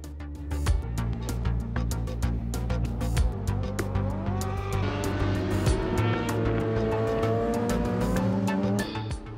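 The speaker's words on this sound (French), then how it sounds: "le pilote du Suzuki replaçait son side en tête de la course après avoir dépassé Mauro" A Suzuki racing sidecar's engine screams at high revs on a race track, with repeated sharp gear changes and a rising, falling pitch as it passes, loud and close, joined by other machines.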